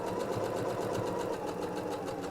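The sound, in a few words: sewing machine stitching around a fabric bag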